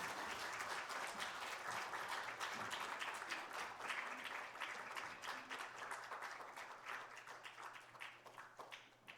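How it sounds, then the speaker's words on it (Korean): A church congregation claps together in a sustained round of applause during a Sunday worship service, dense and lively, tapering slightly toward the end. "하나님께 영광의 박수를 올려드리겠습니다."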